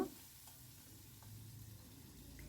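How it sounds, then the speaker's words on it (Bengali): Onion and dried red chilli frying in a pan on a stove, a quiet steady sizzle with faint crackle, heard up close and alone. "পেঁয়াজটা শুকনো লঙ্কাটা ভালো করে আমি ভেজে নেব"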